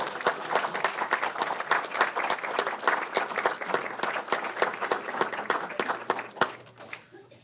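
Applause at a city council meeting honoring a high school girls varsity soccer team: a room of people clapping steadily, with crisp individual claps standing out, fading away at the end.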